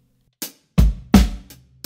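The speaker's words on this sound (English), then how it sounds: "That's the verse rhythm when the vocals start." A drum kit plays the verse rhythm of a song, a sparse pattern of five sharp, close hits that mixes deep kick thumps with bright snare and cymbal strikes separated by short silences.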